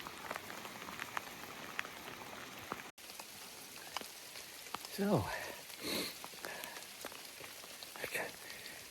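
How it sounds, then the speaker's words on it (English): Rain patters densely and steadily on surfaces in timber along a creek in southwest Washington during a blacktail hunt, with a brief spoken word and some nearby rustling over the constant wash. "it's raining so hard"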